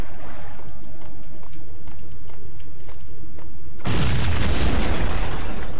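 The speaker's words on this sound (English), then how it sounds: "The whole building was rigged with explosives." Explosions in the Max Payne video game: a steady, noisy background is suddenly broken by a loud, close, roaring blast that keeps thundering to the end.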